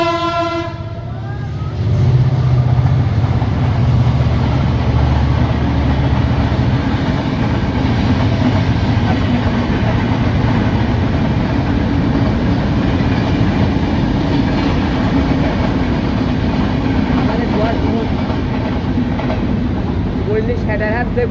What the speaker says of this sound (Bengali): এই পাশে রেল লাইন, তো মনে হচ্ছে ট্রেন আসতেছে